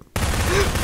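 Gunfire from the video game Garry's Mod during a Prop Hunt match breaks in suddenly after a brief hush and carries on as a loud, dense burst for under a second.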